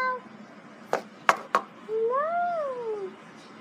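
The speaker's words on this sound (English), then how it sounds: "Such a cute fat kitty." A fat house cat gives one drawn-out, rising-then-falling meow, heard close and clear after a few sharp knocks, with quiet room tone around it.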